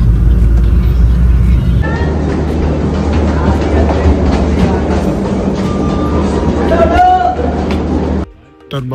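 Rolling noise and clatter from a moving Indian Railways train, heard inside a 3rd AC coach. A steady loud rumble carries on with rail clicks and rattling, and a voice talks over it before the sound drops away near the end.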